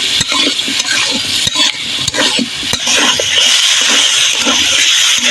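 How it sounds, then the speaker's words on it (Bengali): Taro pieces fry and get stirred in masala, with a steady close sizzle and repeated scraping strokes of a spoon against the pan throughout, no voices present. "এবার আমি কচুগুলো ঢেলে দিলাম কচুগুলো আগে ভালোভাবে কষিয়ে নেব"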